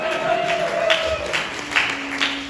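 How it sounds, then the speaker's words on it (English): Audience clapping at a comedy roast, a brief burst of applause and light crowd noise lasting a couple of seconds. "No need for you to clap"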